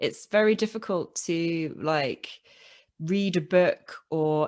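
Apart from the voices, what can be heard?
No everyday noise stands out behind the speech.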